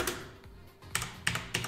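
Computer keyboard typing at a workbench, a few sharp clicks in short bursts separated by brief pauses, close and moderately quiet.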